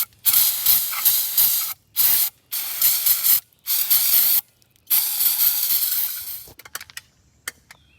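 Cleaner sprayed onto a disassembled truck air brake relay valve in several close, loud hissing bursts of varying length, separated by short pauses, with a few faint clicks and handling knocks at the end.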